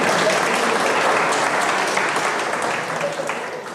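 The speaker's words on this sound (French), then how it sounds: "Il y a de quoi applaudir quand même, c'est le Festival des Cannes." Steady, dense applause from a large audience at a slam poetry performance, continuous clapping throughout that fades slightly toward the end.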